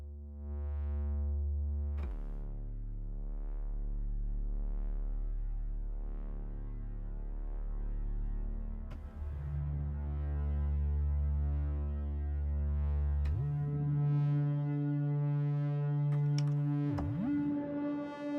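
Deep, sustained Moog Slim Phatty synthesizer drones shift down in pitch in steps, rich with buzzy overtones and a swelling pulse, ending in a brief pitch bend.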